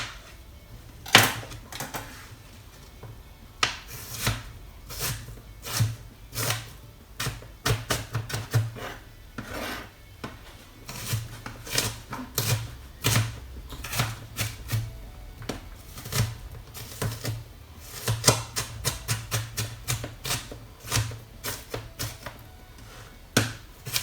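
A knife chops vegetables into chunky pieces on a cutting board for ratatouille, sounding as a steady run of sharp, close knocks that bunch into quicker bursts, heard alone with no talk.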